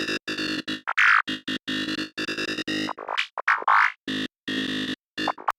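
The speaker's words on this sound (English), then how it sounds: "Add a tiny bit of distortion, like so. I'll set it to soft saturation." Serum software synthesizer run through soft saturation distortion, playing a choppy sequence of short, bright, buzzy notes with gliding pitch sweeps, close and loud, separated by brief silent gaps.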